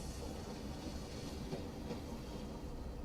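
Train ride ambience from the video game Assassin's Creed Syndicate: a steady, muffled rumble of a moving railway carriage with soft rhythmic clatter from the wheels, continuous and even throughout, without voices.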